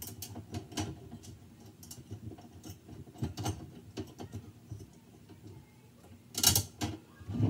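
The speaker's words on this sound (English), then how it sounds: "So I'm going to put a couple blue screws in there." Small plastic screws being driven into a bevel gear construction kit, giving faint, irregular ticking and ratcheting clicks close by, with a louder burst near the end.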